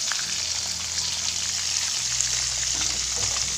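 A gurami fish caught from Laguna Lake fries in hot oil. A close, continuous crackling sizzle runs throughout, with spatters popping over it.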